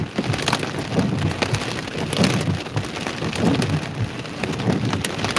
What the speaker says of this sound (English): most of it's pea size hail